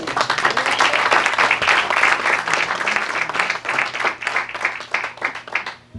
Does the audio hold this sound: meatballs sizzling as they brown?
no